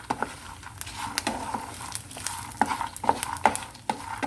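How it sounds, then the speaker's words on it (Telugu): Tamarind, cumin and other chutney ingredients for peanut chutney frying in a pan, a soft sizzle with repeated scraping and tapping of a spatula stirring them at a steady pace. "అన్ని ఇంగ్రీడియంట్స్ మొత్తం కొద్దిగా ఫ్రై అయ్యే వరకు ఫ్రై చేసుకోవాలి"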